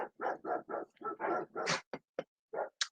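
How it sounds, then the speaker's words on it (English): A dog barks in a quick run of sharp, clear yips and barks with short gaps, followed by a couple of higher whimpers, fairly close and alone. "And I hear the dogs"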